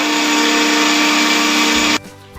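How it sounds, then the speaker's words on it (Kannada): A kitchen mixer grinder whirs loudly and steadily while grinding masala ingredients for Malnad-style kissina gende sambar, then cuts off abruptly near the end, leaving a quieter room. "ಇವಾಗ ಇದನ್ನೆಲ್ಲ ಹಾಕ್ಕೊಂಡು ರುಬ್ಕೊಂಡು ಬರೋಣ"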